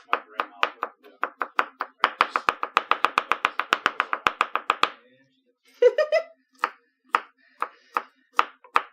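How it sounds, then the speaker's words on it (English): A knife chops and minces ingredients for a cheese dip on a cutting board, with rapid, even taps that speed into a dense run, a brief pause and a short voice, then slower separate chops. "I'm just chopping things forever"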